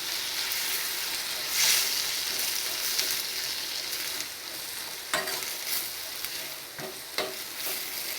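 Capsicum tomato paste cooking in a kadai gives a steady close sizzle, broken by scraping, clacking stirs from a spoon against the pan, with no voices.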